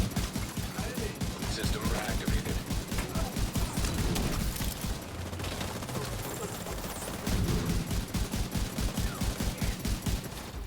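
Rapid, near gunfire from the video game Tom Clancy's The Division 2, a dense run of repeated automatic bursts that keeps going with only a brief lull midway, loud and close throughout.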